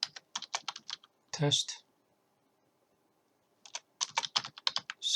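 Typing on a computer keyboard: bursts of quick, close clicky keystrokes in two runs separated by a pause, with a brief spoken word between them.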